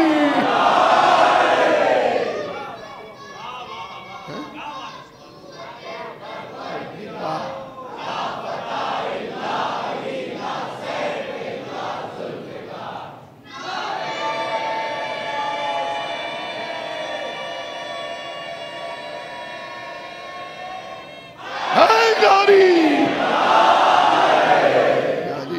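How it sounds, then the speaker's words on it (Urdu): A crowd of children chanting Haidari religious slogans at a Muharram majlis in an imambargah, loud rhythmic group chants in repeated bursts with brief pauses between. "یہ بچے نعرے لگا کے بتا رہے ہیں علی علی نہیں ہوگا"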